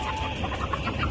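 Chickens on a ranch cluck softly and repeatedly in a busy, close-up flock murmur, with a steady low background noise throughout.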